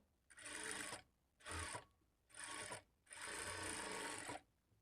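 A sewing machine stitching a blouse runs in four close bursts, three short ones and then a longer steady run, with a buzzing whir separated by brief quiet pauses, and no speech.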